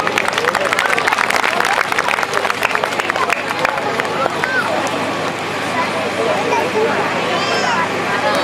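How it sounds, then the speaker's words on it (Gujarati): Audience applause at a school annual function in a village gathering, dense clapping and crowd hubbub filling the space and gradually thinning toward the end. "તાળીઓથી સ્વાગત કરો."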